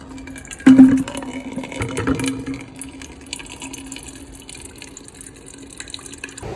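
Water poured through a portable water filter on a coastal hiking trail, a brief splashing pour at the start followed by a steady trickle and faint drips close by, with no talking.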